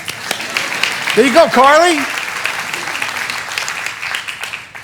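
A church congregation claps for Carly, a granddaughter, a moderate round of applause under a man's spoken words, fading gradually afterward.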